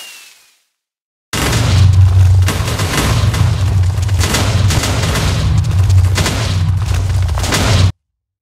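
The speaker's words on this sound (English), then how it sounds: "Next, let's put the explosion sound." A game bomb explosion from Minecraft Bedrock Edition, set off when a falling bomb hits the ground: a loud, sustained rumbling blast with a heavy low boom lasting about six and a half seconds, then cutting off abruptly.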